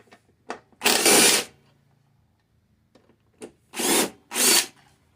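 A power tool spins out 3/8 bolts on a worn, neglected Toro Recycler lawn mower, giving three short whirring bursts close up, separated by quiet pauses and light handling clicks.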